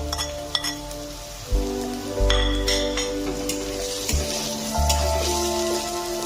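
Chopped onion and green chilli fry in a pan with a soft, steady sizzle and occasional clinks of a spoon stirring, all under continuous background music.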